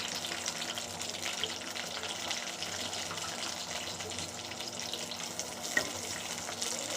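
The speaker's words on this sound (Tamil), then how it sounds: "நீங்கள் நல்லா வதக்கி தரணும்" Cut bitter gourd sautés in a little oil in a pan, giving a steady, even sizzle and crackle close by, with no voices.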